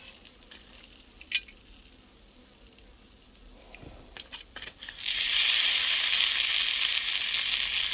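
Faint clicks and scrapes, then a steady loud sizzle of dried fish frying in a pan takes over and continues, close up.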